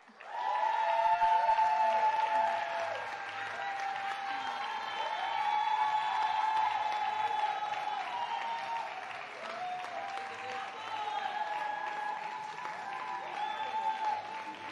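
Sustained applause and cheering for an award winner at a recognition ceremony, many hands clapping steadily for several seconds with whoops and raised voices over it and the din rising and easing again.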